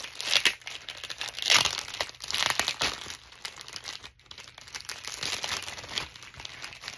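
Old paper being handled and crinkled while unpacking mail, close and fairly quiet, giving irregular crackling bursts with soft rustles between them and no talk.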